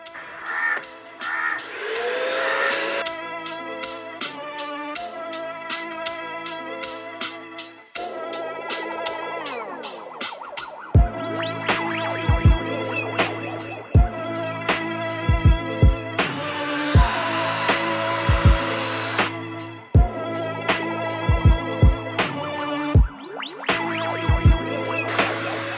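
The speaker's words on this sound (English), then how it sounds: "So now let's go to the next part, which is the vacuum." A vacuum cleaner whirs steadily with a rising and falling pitch while cleaning a Skoda Octavia vRS interior, joined by sharp intermittent clicks and bumps, with a brief pause midway.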